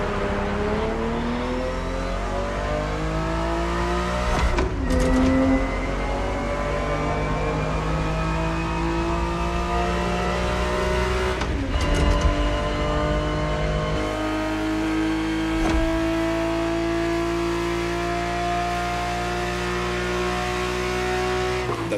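A Ferrari 365 GTB4, a 1970s car driven in The Crew Motorfest racing game, revs hard and climbs steadily through the gears, with sharp shifts and brief tire squeal, loud and close throughout.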